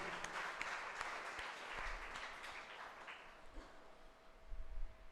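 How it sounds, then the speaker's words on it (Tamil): A church congregation claps hands in thanks during a Tamil sermon, a broad, steady wash of applause that swells and fades over several seconds with no speech over it. "கைத்தட்டி ஆண்டவரை நன்றி சொல்லும்."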